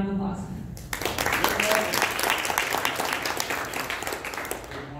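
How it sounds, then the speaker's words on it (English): Applause from an audience welcoming a mentor who introduces a company at a morning presentation, a dense wash of clapping that starts abruptly after a brief voice and stays loud and steady to the end. "So let's give him a round of applause."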